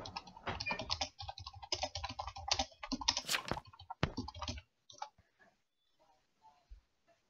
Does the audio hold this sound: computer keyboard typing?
yes